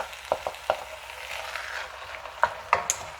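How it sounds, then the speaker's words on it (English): Tomatoes go into a Sicilian caponata of mixed vegetables in a cast iron pot on a gas stove, giving a steady close sizzle broken by a few sharp stirring scrapes and clanks. "now we're going to add our tomatoes."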